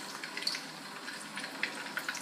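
Pork pieces frying in a hot wok for sweet and sour pork, a soft steady sizzle with scattered pops and crackles as meat hits the oil, fairly quiet.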